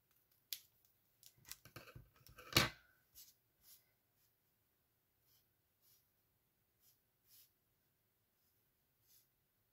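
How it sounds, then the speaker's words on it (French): Paper being cut with scissors for an art journal page: a short run of crisp snips and rustles, with one louder cut in the middle, then a few faint, sparse clicks in a quiet room. "Ouais, je pense que je vais le couper lui."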